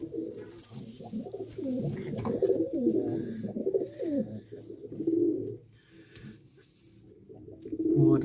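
Pigeons in a breeding loft, cooing continuously in soft, low, rolling calls from several birds nearby, rising and falling with a brief quieter lull.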